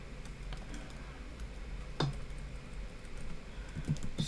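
Someone types code on a computer keyboard, a run of light, irregular key clicks with one sharper tap near the middle and a few more near the end, close and alone.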